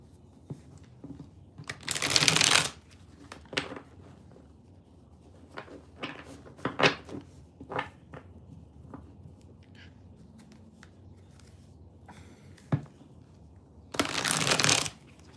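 Tarot cards being shuffled by hand: two dense, papery riffling bursts near and alone, one early and one at the end, with light taps and handling clicks between them in a quiet room.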